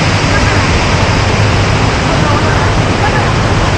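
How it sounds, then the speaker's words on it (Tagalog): Shifen Falls in Taiwan pours in a loud, unbroken roar of falling water that fills the whole moment without pause. "Shifen Falls."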